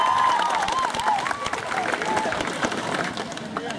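Audience at a cosplay awards ceremony applauding, a dense wash of crowd clapping with scattered cheers and voices, steady and fairly loud throughout.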